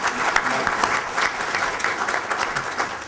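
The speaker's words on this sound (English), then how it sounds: "Could we give another round of applause to our panel members?" An audience at an Indigenous rights panel gives a steady round of applause for the panel members, a continuous wash of many hands clapping with faint voices mixed underneath.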